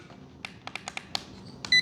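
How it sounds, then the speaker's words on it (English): Several short, sharp electronic beeps in quick succession from an FMS Magnum 1:18 RC crawler, fairly close, with a brief steady tone at the end over quiet background hiss. "I heard a beep."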